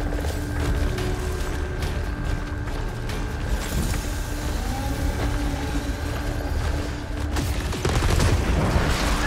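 Weapon fire in the sci-fi shooter Returnal, a steady stream of rapid mechanical shots with a humming tonal drone beneath, dense and loud throughout and swelling slightly toward the end, with no talk.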